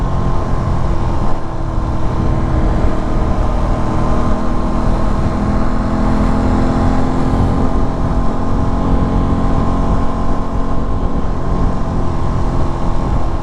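Parallel twin motorcycle engine droning steadily while lane splitting slowly through traffic, a continuous loud low hum with a faint turbo-like whine and no speech.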